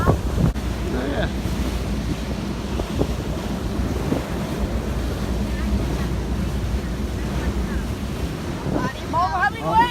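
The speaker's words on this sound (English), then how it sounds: "the waves are coming. Here it comes." Ocean waves wash and crash around a boat on a trip to Capri, a steady loud rush mixed with heavy wind buffeting the microphone throughout, with faint voices near the end.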